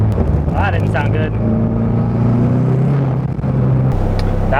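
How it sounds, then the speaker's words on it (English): A turbocharged Mazda Miata running about 17.5 pounds of boost revs hard with its clutch slipping, a loud sustained engine drone holding steady pitch, then dropping and rising again, with voices talking over it. "That was clutch slipping."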